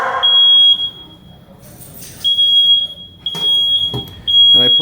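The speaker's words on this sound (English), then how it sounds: "And the smoke alarm went off." A shrill, high smoke alarm beeps in sustained tones that start and stop, with clattering kitchen noises in between.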